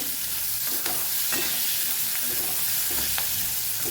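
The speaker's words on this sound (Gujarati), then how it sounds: "ટીંડોળા અને મરચાંને આપણે સરસ સાતળી દઈશું" Ivy gourd and chillies sautéing in a pan, with a steady sizzle of hot oil broken by a few sharp scraping strokes as they are stirred, close and alone with no voices.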